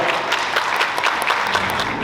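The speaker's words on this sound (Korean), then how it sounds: "여러분 큰 박수 부탁드립니다" Wedding guests at a convention hall clap continuously in a dense, even burst of applause, close and fairly loud throughout.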